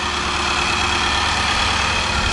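A steady, low engine idle from a 2018 Infiniti QX80 SUV rumbles continuously at close range, even and unbroken with no talking.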